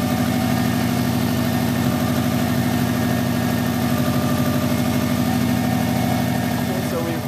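A Subaru engine idles steadily after a timing belt replacement, warming up while the cooling system is bled of air; a continuous, even, close rumble with no breaks.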